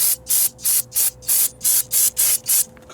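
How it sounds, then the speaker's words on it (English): Brake cleaner sprayed onto a rusty lawn mower axle in eight quick hissing bursts, evenly spaced and loud at close range. "we'll hit it with some brake spray"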